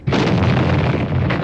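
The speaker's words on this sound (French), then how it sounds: "Il tire à la mitrailleuse, vous entendez les balles qui claquent contre le mur." Heavy machine-gun fire in Budapest in 1956 sends bullets slamming into a wall. A loud, continuous, dense crackle of impacts and shots fills the whole short burst.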